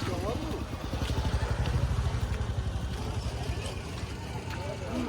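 Motorcycle engines idle and putter steadily at a village gathering, a constant low rumble up close with a throbbing rhythm, while people talk over it.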